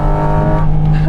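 A Porsche 911 race car engine revs high on a circuit with a loud, steady buzzing drone and a sustained strong pitch heard from inside the car.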